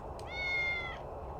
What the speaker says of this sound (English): A cat named William. Meow!